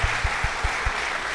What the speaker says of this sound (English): Give KB a round of applause